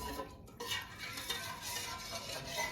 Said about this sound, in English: And I'm deglazing the pan.